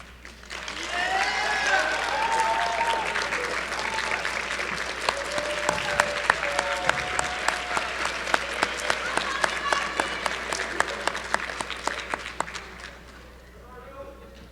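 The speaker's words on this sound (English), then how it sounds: "you guys owe a round of applause to some people sitting behind you as well." A crowd applauds steadily, swelling then thinning into scattered individual claps before fading out, with voices murmuring underneath.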